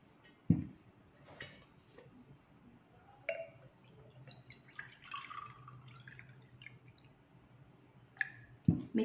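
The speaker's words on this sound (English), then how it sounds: "We will add some water." Water is added to an Italian stovetop coffee maker, with soft trickling and a few sharp metallic clinks and taps, quiet and close.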